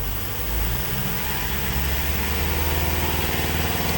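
Car engine held at a steady 2000 RPM during a diagnostic scan-tool check, a continuous, even mechanical drone close to the microphone with no speech.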